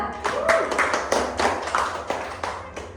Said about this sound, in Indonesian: Tepuk tangan untuk Esther